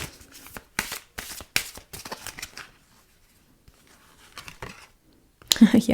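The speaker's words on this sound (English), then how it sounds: "So let's get some more cards here onto the table." Tarot cards shuffled and dealt onto a table during a pick-a-card reading, brief papery riffles and slaps in several bursts with a sharp card snap at the end, interleaved with spoken narration.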